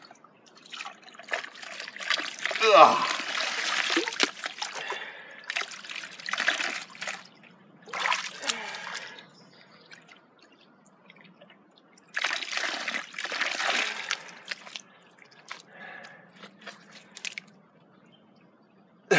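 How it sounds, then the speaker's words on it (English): Water trickles and gurgles up through mud at a water source, coming in intermittent wet bursts of dribbling and squishing spread across the span, with a brief grunt from a person early on. "The water pressure is growing as the mud leaves and water takes its place."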